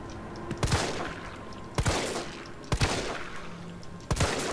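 Gunshots blast at zombies in Resident Evil 3, Raccoon City demo: four loud, sharp bursts spaced about a second apart, each trailing off into a rumbling echo, with no voices.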